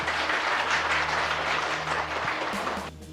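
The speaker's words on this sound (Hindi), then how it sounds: "सटीक उत्तर के लिए जबरदस्त तालियां।" Audience applause at a Ramayana quiz competition program, a dense, steady wash of many hands clapping at full volume for nearly three seconds before dropping off sharply at the end.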